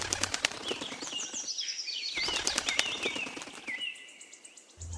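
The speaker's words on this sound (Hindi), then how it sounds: "फिर टुनी चिड़िया और उसका पति टूना वहाँ से उड़कर दूसरे जंगल चले जाते हैं।" Cartoon birds fly away in a flurry of rapid wing-flapping effects, with chirps and whistling tweets layered over the flutter, fairly loud and close.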